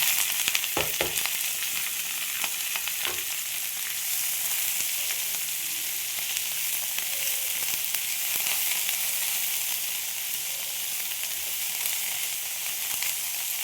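Shredded cabbage with green chilli and onion fries in hot oil, a loud, continuous hissing sizzle with a few clunks of stirring early on, then steady crackle throughout.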